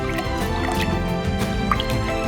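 Salt being stirred into cold whey, soft wet sloshing and drips of liquid moving close by, brief and continuous.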